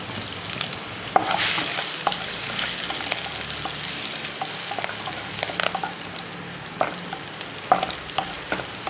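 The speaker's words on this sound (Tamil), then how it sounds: "கடுகு பொரிஞ்சதும் காஞ்ச மிளகாவை சேர்த்துட்டு பூண்டு போட்டு நல்லா மிக்ஸ் பண்ணணும்" Garlic and dried red chillies fry in oil, likely with popped mustard seeds, for a Tamil black nightshade leaf kuzhambu, giving a steady close sizzle broken by scraping stirs and occasional sharp spatters, with no talk.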